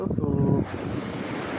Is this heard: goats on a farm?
no